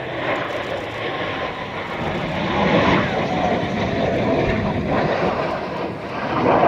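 A loud, sustained Blue Angels jet engine roar fills the whole stretch during an aerobatic tuck-over roll at practice, swelling slightly in the middle as the plane passes close overhead.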